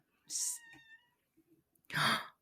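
A house cat gives one clear, drawn-out meow close by in a quiet room, followed by a few soft rustles and a louder breathy burst near the end.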